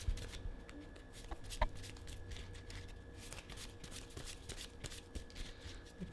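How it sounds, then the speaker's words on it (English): Soft, close rustling and riffling of a deck of Yu-Gi-Oh trading cards being shuffled by hand, with a few sharper flicks and snaps over several seconds, no talking. "So let me make sure I'm shuffling this properly."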